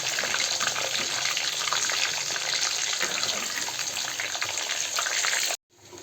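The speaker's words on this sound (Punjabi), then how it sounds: "ਜਿਹੜਾ ਲਾਸਟ ਵਾਲਾ ਬੈਚ ਰਹਿ ਗਿਆ ਉਹ ਵੀ ਆਪਾਂ ਫਰਾਈ ਕਰ ਲੈਣੀ" Pieces of elephant foot yam (jimikand) frying in hot oil give a loud, steady, dense sizzle that runs nearly unbroken before cutting off sharply near the end.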